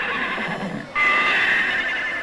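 A horse whinnies loudly and close by, a shrill drawn-out neigh rising over a steady background, no talking.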